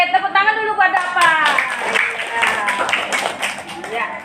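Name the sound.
schoolchildren clapping in class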